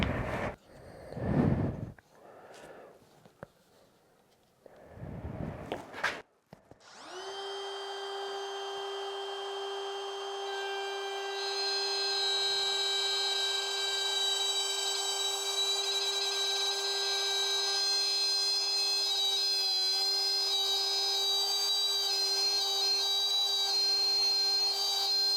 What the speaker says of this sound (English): we're just gonna clamp down this piece of wood and just do a couple test cuts just to see how this feels